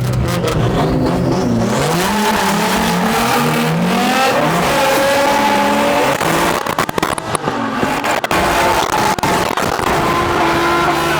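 Drift cars lap a track during a practice day, engines revving hard and continuously with rising and falling pitch, loud and close, with brief tire squeal and sharp bursts as cars pass.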